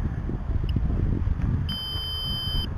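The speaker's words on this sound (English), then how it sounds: "That's my timer gone off" A timer goes off with a short electronic beep followed by a longer sustained beep, clear and high-pitched over a low rumbling background.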